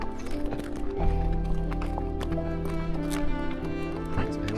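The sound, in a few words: horse hooves on a path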